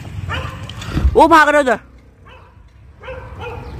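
Dogs attacking chickens: a short burst of yelping barks and whimpering stands out early, amid loud outdoor commotion, with people shouting excitedly over it throughout.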